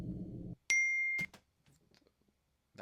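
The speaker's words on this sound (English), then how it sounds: "The iPhone ping." An iPhone notification ping rings out as a single clear, bright ding that holds for about half a second, following a low muffled sound and leading into faint scattered noises.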